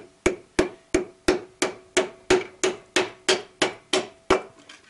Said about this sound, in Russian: мягкой стороной молотка, прижимая рукой,